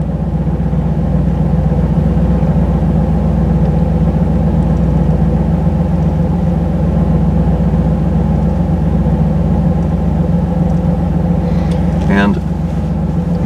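A 305 TPI V8 engine in a third-generation Chevrolet Camaro idles steadily and loudly with a constant low rumble throughout, and a brief squeak near the end.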